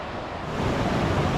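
Gore Creek in Colorado's Eagles Nest Wilderness rushes with snow melt, a dense, steady broadband roar of fast water that swells slightly louder after the first moment, with no voices.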